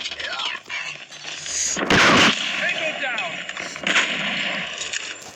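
Sniper gunfire in a video game: a loud, sharp shot burst near the two-second mark stands out above a busy game soundscape, with a weaker crack later and players talking excitedly throughout.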